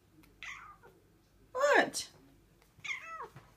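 A scruffy cat meows three times, one short call, a louder drawn-out middle meow and a final one, close up with a person talking briefly.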